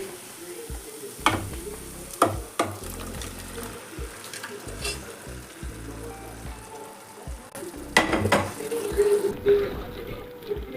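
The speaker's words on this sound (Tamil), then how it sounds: "கறி நல்லா வெந்துருச்சு அந்த மசாலோடு நல்லா மிக்ஸ் பண்ணிக்கலாம் நல்லா பெரட்டி விட்டுக்கலாம்" Country chicken cooked with masala being stirred and fried in a pan, with a soft sizzle under repeated scraping strokes and clatter of a spoon against the pan, close and fairly quiet.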